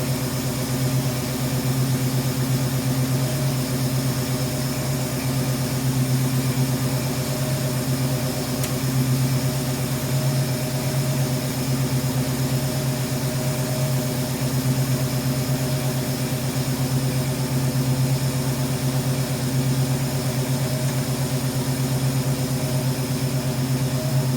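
Old car engine idling after sitting unused for 14 years, a steady, even low hum with a constant drone and no revving, running alone for the whole stretch.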